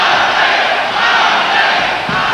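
A boxing crowd in Hidalgo, Texas roars and chants continuously for Arce, a dense, loud wall of cheering voices with no break.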